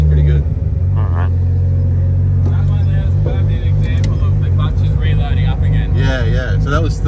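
A car with an 8HP automatic fitted with a clutch pedal setup pulls away in third gear, its loud, close engine droning low and steady as it bogs, then climbing into revs, with a voice talking over it.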